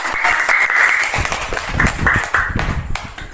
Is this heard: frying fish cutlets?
no